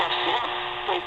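CCrane Skywave portable radio picking up a strong station through heavy static, a steady broadband hiss with a faint voice-like signal running underneath, continuous and fairly loud throughout.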